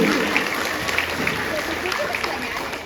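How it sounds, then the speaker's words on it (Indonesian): A crowd at a primary school flag ceremony claps steadily, a dense patter of many hands at moderate distance, fading slightly toward the end. "Coba tepuk tangan dulu"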